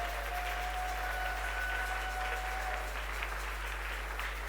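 A church congregation claps during worship, a faint, continuous patter of applause heard at a distance over a low, steady hum.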